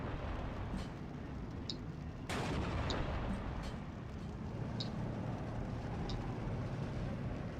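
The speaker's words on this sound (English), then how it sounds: "His artillery now strikes, tries to soften up this position." Artillery fire from the video game Steel Division 2 strikes a position, with a sharp blast near the middle over a continuous rumbling battle backdrop and scattered distant cracks.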